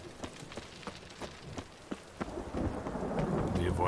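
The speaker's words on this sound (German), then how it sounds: "Das erste Mal, dass hier Regen ist," Rain pours steadily in The Witcher 3 game world in Novigrad, with sharp thunder cracks repeating through the first half before the downpour swells louder and denser, with no talking.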